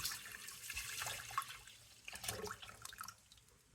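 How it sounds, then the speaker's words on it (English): Vinegar is poured into a pan for pickling red cabbage, a faint splashing trickle of liquid heard close by, running for a few seconds and tailing off. "So I'm just going to pour this into the pan."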